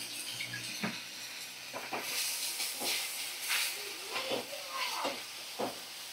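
Ginger-garlic paste with poppy seed and mustard paste frying in a pan for a fish dish, giving a steady soft hiss broken by occasional scraping strokes, close and moderately loud, with no talk.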